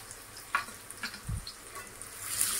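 Onions frying in oil in a kadhai over high flame for veg noodles, a soft, faint sizzle with a few light stirring knocks, no talking.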